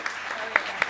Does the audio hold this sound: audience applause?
yes